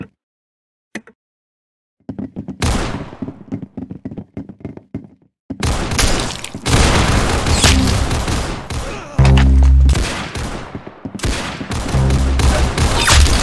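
Video game gunfire: a few sparse shots, then a dense rapid volley of loud close bursts and booming impacts that continues for several seconds with heavy echoing tails.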